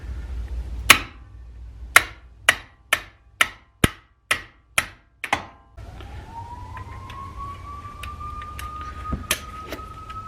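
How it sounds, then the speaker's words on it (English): A 4-pound sledgehammer striking a brake caliper on a Ford Fusion: about ten sharp metallic clanks in a steady rhythm, close and loud, followed by a quieter ringing tone and a few lighter taps. "you want a decent sized persuader. This is the 4-pound sledgehammer."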